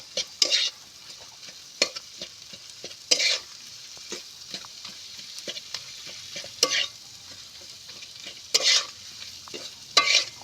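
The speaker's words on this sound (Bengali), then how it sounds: "এইভাবে নেড়ে চেড়ে আমি ভর্তাটা বানিয়ে নেব" Boiled green banana being stirred and mashed into a bharta in a pan, with a string of loud, separate scraping strokes over a faint background sizzle.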